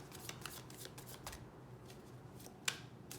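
Tarot cards riffle and slide in a run of soft papery shuffling bursts, with a brief pause and then a sharper snap of cards near the end; no voices.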